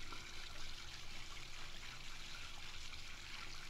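Fresh water trickles and splashes while a paint brush is rinsed under it, a steady, close running-water sound with no voices.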